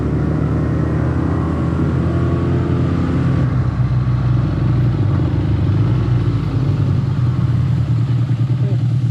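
A motorcycle on a road during a long-distance ride, its engine droning steadily and loudly throughout with wind rumble and some clatter, no talk over it.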